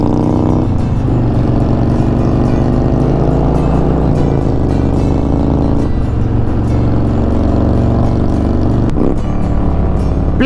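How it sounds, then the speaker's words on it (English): A motorcycle engine runs steadily and loudly throughout, with a sustained low drone and shifts in pitch suggesting revving, no talking over it. "listen to his bike"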